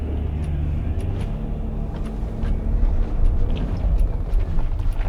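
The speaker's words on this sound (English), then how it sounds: "Oh, here comes a Land Rover." A Land Rover drives past on a road, a steady low rumble that swells louder in the second half as it nears, with no talk over it.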